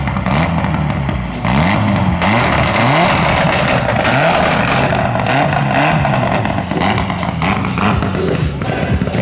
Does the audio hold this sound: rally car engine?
yes